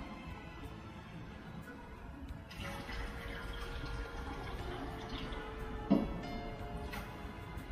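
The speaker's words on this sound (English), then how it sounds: "let's see what happens if we add more water from the AlkaPod" Water runs from a portable alkaline water dispenser into a bottle, a quiet steady trickle that grows fuller partway through, with a small clunk near the end.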